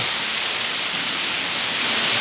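Heavy torrential rain pours down in Sylhet, a dense, steady, loud roar of water on surfaces with no pauses or voices.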